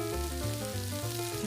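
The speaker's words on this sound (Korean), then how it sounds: "미나리를 함께 넣고 지글지글 굽는 것만 봐도 군침이 절로 돕니다" Pork belly with water parsley sizzles on a grill in a steady close crackle, with a tonal music-like layer running underneath.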